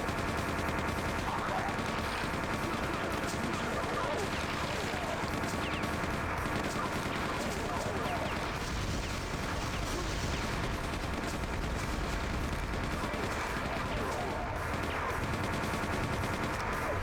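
Sustained weapon gunfire in the game Quake 2 roars continuously, a dense rapid barrage of shots and blasts with no pause, loud and filling the whole stretch.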